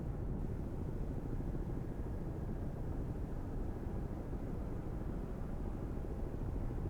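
A helicopter circles overhead in the submarine game Cold Waters, heard as a steady low rumbling drone that stays even throughout.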